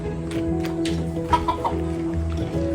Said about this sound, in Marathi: हे बघा कोंबड्या बघा कशा ओरडतायत